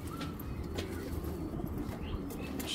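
A steady bed of low cooing rolls from a group of pet pigeons in a home loft, with occasional faint chirps scattered over it and no break in the murmuring.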